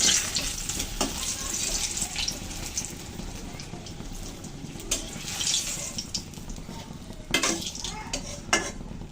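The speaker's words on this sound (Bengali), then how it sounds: "এই তেলের ভিতর আমি বাকি বেগুনগুলো দিয়ে দিচ্ছি" Eggplant pieces frying in oil in a pan, a soft continuous sizzle with occasional clinks and scrapes of stirring utensils, fairly quiet and close.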